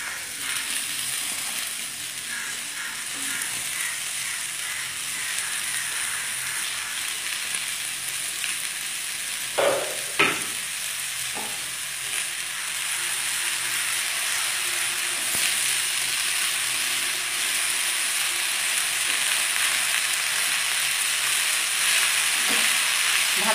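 Bottle gourd leaves and stalks sizzle steadily in a hot pan with spices, a constant close hiss broken by a few sharp scrapes and clanks of stirring midway, no voices.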